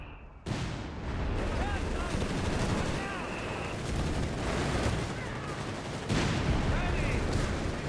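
Rapid flak gunfire rips through grenadiers amid a dense, continuous din of battle in the strategy game Company of Heroes 3, with overlapping bursts and distant blasts sustained throughout.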